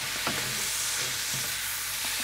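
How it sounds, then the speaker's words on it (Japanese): Sliced mushrooms being stir-fried slowly in a pan, a steady loud sizzle with occasional soft scrapes of stirring, no voices. "マッシュルームがしんなりするまでね気長に焦がさないように炒めます"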